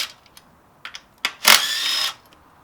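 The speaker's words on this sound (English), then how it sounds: "we have one more bolt up here and then two off the intake manifold, so we'll undo those" A power tool undoing bolts on a car's intake manifold during a COBB Stage 2 install, with a few short clicks and taps, then a brief whirring spin of about half a second, close and clear.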